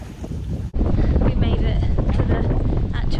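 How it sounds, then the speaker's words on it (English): Strong wind buffets the microphone in a steady, broadband roar, with a brief dip near the start, heard outdoors near open water on Koh Kipe, a Thai island. "Windy here."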